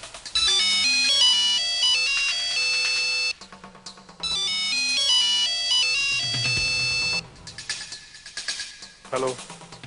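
A telephone ringtone plays a bright electronic melody in repeated phrases, loud and clear, with short pauses between bursts and a few softer sounds near the end.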